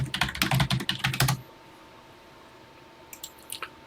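Rapid clacking keystrokes on a Texas Instruments TI-99/4A home computer keyboard come in a dense burst for about a second and a half. After a pause, a few faint, scattered taps follow against a quiet hum.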